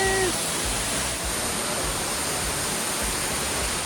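Eden Falls, a waterfall on an Arkansas hiking trail, roars as a steady, broad rushing wash of water close by, constant and loud with no other sounds standing out.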